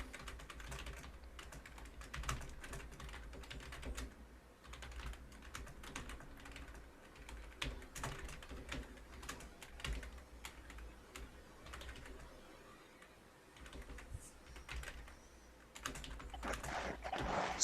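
Continuous clattering of typing on a computer keyboard, with rapid irregular keystrokes fairly close, running steadily for the whole stretch with brief lulls.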